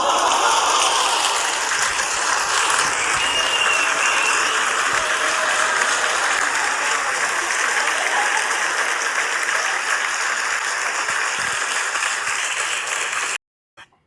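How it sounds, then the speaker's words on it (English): Loud, dense applause and clapping for Kendrick Lamar, continuous and even throughout before cutting off abruptly near the end. "We're gonna clap it up one time for Kendrick Lamar for sure."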